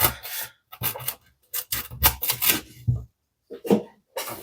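A folding knife slicing through thick 3/4 inch jute rope, giving a series of short, loud rasping scrapes and fibrous rubs in bursts with brief pauses between strokes, close up and without talk.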